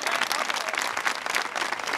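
Applause from an audience for a group of hikers from Rute and El Hacho at a senior week hiking and pétanque gathering, a steady, dense clapping that stays loud and even throughout.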